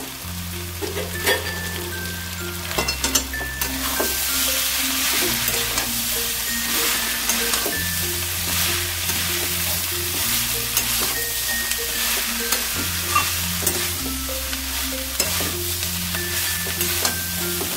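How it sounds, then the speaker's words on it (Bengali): Banana flower stir-fried with spices in a pan for vegetarian mochar ghanto crackles with loud, dense frying. Spoon strokes scrape and clink repeatedly as the mixture is turned, and a steady low hum runs beneath. "মোচার সাথেও আমি ভালো করে মিশিয়ে নেবো মশলাটা"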